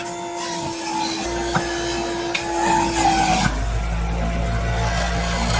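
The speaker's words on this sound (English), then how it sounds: "you can hear how it's vibrating again, and it's even moving" An Acme Supreme Juicerator juicer hums and vibrates steadily with a low rumble while juicing apple slices, its pitch dropping and the rattle growing heavier partway through, with occasional knocks and scrapes.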